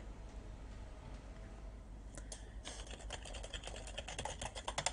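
Keys tapped on a computer keyboard to enter the gparted command, a light run of rapid clicks that thickens into a busier burst over the last few seconds, close and with no voices.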